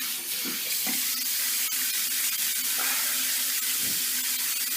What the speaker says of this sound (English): Another rinse.